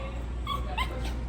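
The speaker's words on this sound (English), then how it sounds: "Stop barking." A scared dog named Serena gives a few high, thin yips and whimpers, close by, under a constant low rumble of background noise.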